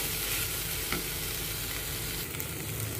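Spices and Kashmiri red chili frying in a little oil for a vegetable Kolhapuri masala, giving a continuous close hiss and sizzle with occasional stirring scrapes, steady and moderately loud with no voices.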